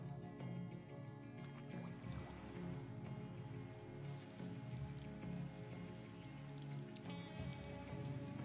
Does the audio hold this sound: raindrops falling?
yes